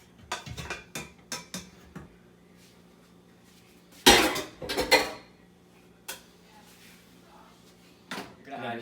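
A cooking spoon scrapes leftover lasagne tomato sauce from a cooking pot, giving several close metallic clinks and scrapes in a quick cluster, then a louder burst of scraping, with scattered knocks afterward and some quiet talk.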